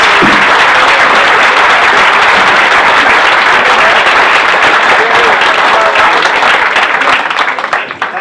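Loud, close applause from a comedy gig audience welcoming the comedian, thick clapping that stays strong for several seconds before tapering off at the end, with some crowd voices mixed in.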